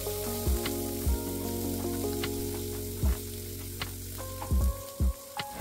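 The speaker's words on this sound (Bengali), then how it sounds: "কুচানো পেঁয়াজ দিয়ে ভালোভাবে ওটা নাড়তে হবে, ভাজা ভাজা করতে হবে।" Chopped onion frying in oil in a pan, a steady close sizzle broken by several sharp knocks and scrapes of a spatula as it is stirred, with no voices.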